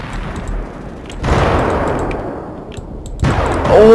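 Kalashnikov machine gun fire in the video game Ravenfield, with bursts of rapid shots at loud volume against a continuous battle background. A heavy burst comes at about one second in and another near the end.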